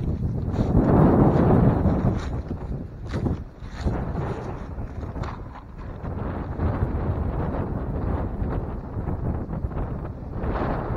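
Gusty wind buffets the microphone outdoors beside a 1930 stone arch bridge over Brush Creek, a loud, steady roar that swells and eases throughout with no speech.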